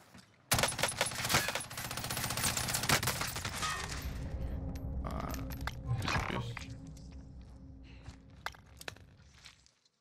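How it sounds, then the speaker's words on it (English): Dense bursts of automatic gunfire from the Call of Duty Warzone video game on Rebirth Island, loud and rapid for several seconds, then thinning into scattered shots and quieter clatter. "I think we got shot from behind"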